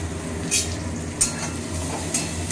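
A small amount of onion frying in a pan, a continuous soft sizzle with a few sharp scraping clicks from a utensil spaced through the short stretch.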